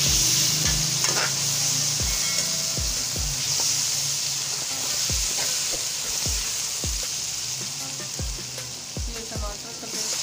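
Onions frying in a pot with garlic-ginger paste and green chili paste for vegetable pulao sizzle and hiss steadily, while a spoon strikes and scrapes the pan in a regular rhythm of about one stroke per second, close and moderately loud.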